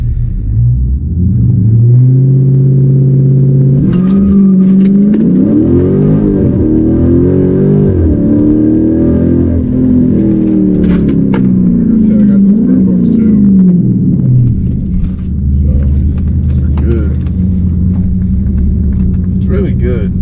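A Dodge Charger 392 launches hard using launch control, its V8 holding a deep rumble before surging through rising revs and gear changes, loud and close, then settling back to a burbling idle.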